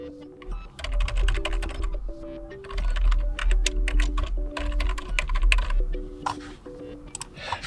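Rapid clicking keystrokes on a computer keyboard as an email address is entered, close and clear in uneven bursts with brief pauses between them.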